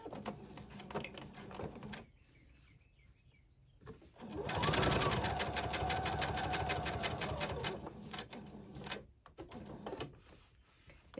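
Sewing machine running a regular straight stitch at 3.0 length to join upper shirt collar sections, with a rapid close mechanical clatter for about four seconds between quieter handling noises and brief stops.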